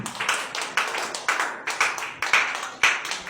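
A church congregation claps in steady rhythmic bursts to acclaim Jesus, a dense crowd of hands striking together in repeated waves, loud and close, with no talk over it.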